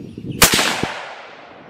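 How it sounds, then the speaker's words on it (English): A Savage Axis rifle in 6.5 Creedmoor fires once at a 100-yard range, giving a single loud, sharp crack up close, followed by a rolling echo that fades away. "Shot number 2 here."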